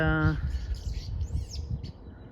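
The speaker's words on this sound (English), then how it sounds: "the birds are fighting." Several wild garden birds chirp and squawk in a scuffle, quick irregular calls scattered over a low rumbling outdoor background, with a brief tonal sound at the start.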